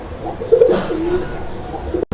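Pigeons cooing up close, a low soft warbling coo rolling on for about two seconds before a brief break.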